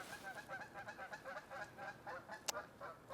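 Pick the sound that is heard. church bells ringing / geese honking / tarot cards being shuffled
geese honking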